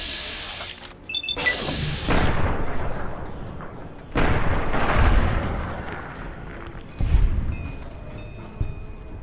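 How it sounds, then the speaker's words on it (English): Explosions in the video game Fallout: New Vegas, several loud booming blasts with crashing debris, separated by short lulls, close and powerful with a final smaller bang. "Mind the explosion!"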